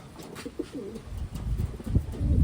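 Pigeons coo in a few short, soft, rolling calls, fairly close, over low rustling and shuffling noises.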